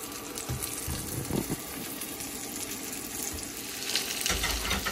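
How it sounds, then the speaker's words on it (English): Steady sizzling of potatoes frying in butter in a pan, with occasional clinks and stirring noises, continuous and close. "Warm up your frying pan and add some butter. Put your potatoes in."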